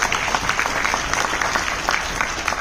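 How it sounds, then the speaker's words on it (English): Audience at the NABJ 2023 journalists' convention breaks into steady, dense applause, a continuous wash of many hands clapping close by, filling the whole moment without pause or voices. "give yourselves a round of applause"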